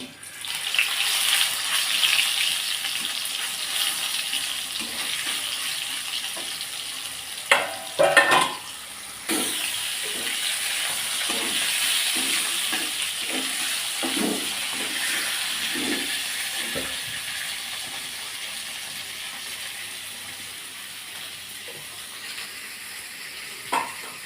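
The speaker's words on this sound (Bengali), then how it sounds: "এখন এই মাখিয়ে রাখা মাংসগুলো ভেজে নেব" Marinated beef fries in hot oil in a wok, a steady loud sizzle running throughout with scraping stir strokes and a few sharper clatters midway.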